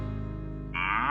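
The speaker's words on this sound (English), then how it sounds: "The cow mooed." A cartoon cow moos on a farm in the morning, a single sustained low harmonic call that swells brighter and louder partway through, close and alone.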